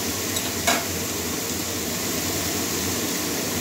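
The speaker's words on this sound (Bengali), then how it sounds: "কাঁকরোল দিয়ে দিচ্ছি। ভালো করে কষিয়ে নেবো।" Spiny gourd (kakrol) with potato and pumpkin stir-fried in a pan, a continuous close sizzle with a brief clink of a utensil against the pan early on, no voices.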